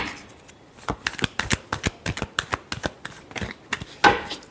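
Tarot cards are shuffled by hand close up, a quick string of crisp slaps and riffles in an uneven rhythm for several seconds, with no voices.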